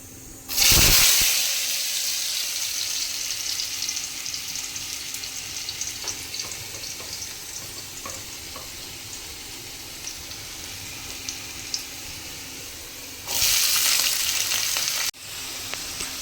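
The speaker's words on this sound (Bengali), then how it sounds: "এর মধ্যে দিয়ে দেব কুচি কুচি করে কেটে রাখা আলুগুলো" Chopped potatoes dropped into hot oil with fried cumin seeds, opening with a loud sudden hiss that settles into a steady close sizzle for most of the stretch, then flaring louder again near the end; no talking.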